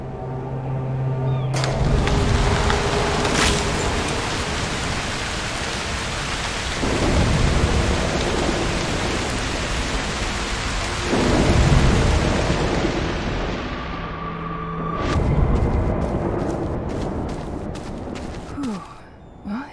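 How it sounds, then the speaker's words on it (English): Thunderstorm with heavy rain in the video game Broken Pieces, a loud, steady downpour with rolling thunder surging several times across the whole stretch, with no voices over it. "A storm could help."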